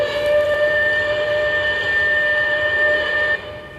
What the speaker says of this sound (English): the first sound that was used at this fog signal building was an compressed air whistle